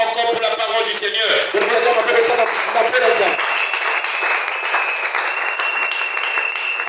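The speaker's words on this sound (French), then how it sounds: "Acclamons encore pour la parole du Seigneur" A church congregation bursts into loud applause as someone speaks over it through the public address. Mixed clapping and cheering swell, then thin into a dense patter of hands while his voice drops away.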